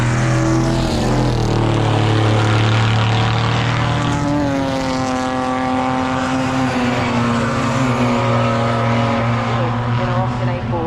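Cars racing side by side at Goodwood circuit, including an Austin, with loud engine roars rising and falling in pitch as they pass, layered and continuous, with a voice talking over them.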